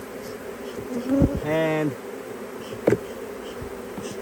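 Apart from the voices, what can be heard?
honey bees buzzing at a beehive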